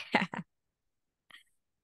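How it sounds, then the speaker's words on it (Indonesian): A person gives a couple of quick coughs and throat clears, two close bursts followed by a brief softer one after a pause of silence. "Batuk dulu."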